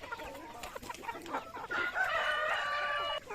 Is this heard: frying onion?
no